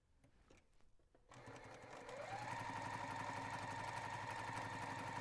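Sewing machine stitching quilt pieces for a mystery quilt, starting after a second of quiet handling and speeding up into a steady, rapid, close mechanical whir that runs continuously to the end.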